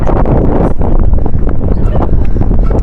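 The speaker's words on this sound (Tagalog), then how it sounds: "Wow, ang hangin." Strong mountain wind at the Rong May glass bridge in Sapa, Vietnam roars loudly and continuously into the microphone, buffeting and gusting without a break.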